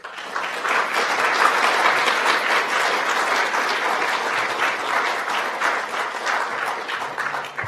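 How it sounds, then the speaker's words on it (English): Sustained applause from a large audience at an event on Indigenous postsecondary education in Ontario, steady dense clapping filling the whole stretch at fairly even loudness, with no voices over it. "I think they deserve a big round of applause for their work"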